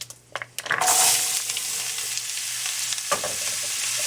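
Celery tipped into hot spiced mustard oil in a pan bursts into a loud, close sizzle that settles into a steady hiss with occasional stirring scrapes.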